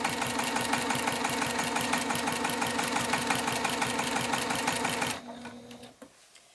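A sewing machine stitches quilt binding in a steady, fast run of needle strokes, close and loud, then stops abruptly near the end, leaving a faint hum and a small clunk.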